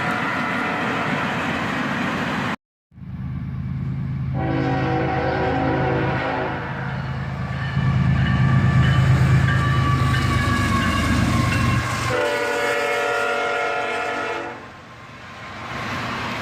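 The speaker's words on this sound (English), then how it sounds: "An AC-44 CW and a Dash 8 lead this train at sunset" A freight train led by an AC44CW and a Dash 8 diesel locomotive rumbles past nearby, its horn sounding loudly in long blasts over the heavy engine drone and rolling wheels.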